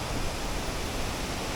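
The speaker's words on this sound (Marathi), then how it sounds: "इकडून धबधबा." A waterfall in the Sahyadri mountains, heard as a steady, dense, full-bodied rush of falling water that fills the whole moment without a break.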